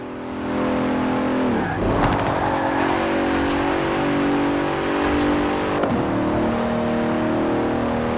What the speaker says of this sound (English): The car was the Continental GT, an elegant grand tourer that combined a racetrack pedigree with exquisite style and all the power you could need.